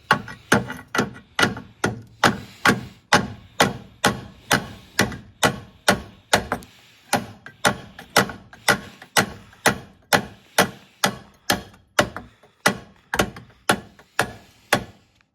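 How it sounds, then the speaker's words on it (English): Steel hammer blows on a part being driven out of the rear axle housing of a Jeep XJ during a one-ton axle swap, about thirty loud, evenly paced metallic strikes ringing close by with no talk. "I'm just going to try and hit it out with the hammer"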